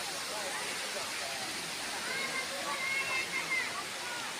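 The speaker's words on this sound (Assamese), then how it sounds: "তাৰ পৰা জুৰি এনেদৰে বৈ আহিছে" A forest stream flows with a steady, rushing babble of water throughout, with faint bird chirps rising near the end.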